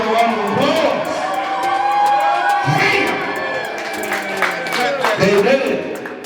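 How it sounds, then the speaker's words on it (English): An audience cheers and applauds, a sustained crowd roar with whoops and shouted voices that swells and pulses for several seconds. "Ladies and gentlemen, let's give them a round of applause."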